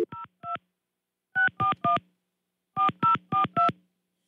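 Touch-tone telephone dialing during a live morning radio show, heard as three clear bursts of DTMF beeps: two quick tones, a pause, a run of three, then four more in steady rhythm, close and alone without talk.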